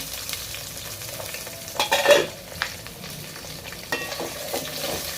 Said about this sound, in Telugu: ఇవి కూడా బాగా ఫ్రై అవ్వాలి ఆనియన్స్ అనేవి brown colour golden brown colour వచ్చినంత వరకు ఫ్రై చేసుకుంటాను